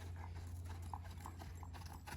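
A ridden horse trots with a quick, even clip-clop of hooves, soft and somewhat distant beneath a constant low rumble of background noise.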